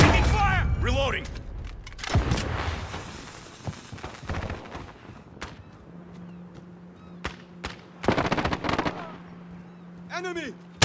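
Dense video game gunfire from Call of Duty Modern Warfare 2019 crackles in repeated sharp bursts and heavier booms, with rapid automatic volleys and scattered single shots, while voices shout in the mix and a steady hum runs underneath.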